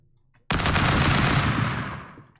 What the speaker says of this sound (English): Sorry if the gunfire is very loud